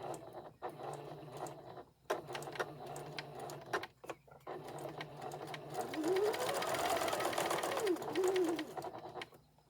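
Domestic sewing machine back stitching the seams of a stuffed memory bear, bursts of fast whirring stitching broken by short pauses, then a longer run with rising and falling motor pitch, close and fairly quiet.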